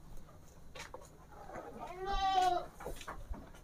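Peranakan Etawa (PE) goats bleat in their pen, with one loud, wavering, drawn-out bleat in the middle and shorter calls around it, close to the microphone.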